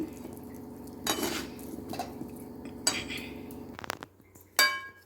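Amla pickle being stirred together with chili powder in a bowl: a spoon clinks and scrapes against the dish in short bursts, with a few sharp metallic taps close by and no talking.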